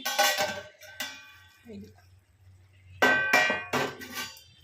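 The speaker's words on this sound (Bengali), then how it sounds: "ঢাকাটা খুলি" A metal lid clanks as it is lifted off a pot of potato and ridge gourd curry, with sharp clattering hits at the start, a short pause, then a louder burst of metallic clinks close by.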